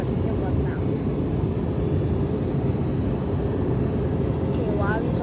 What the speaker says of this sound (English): I think they just set the flaps, new flaps out